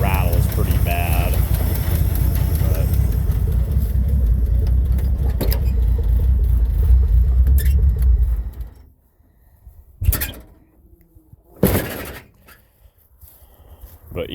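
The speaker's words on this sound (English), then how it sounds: "this core support rattles pretty bad" An old bullnose Ford truck engine runs loud and rough, apparently down a cylinder, with a rattling core support buzzing over the steady low drone before it cuts out, leaving a couple of brief knocks.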